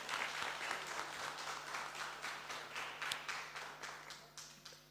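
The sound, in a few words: audience applauding for Mpungose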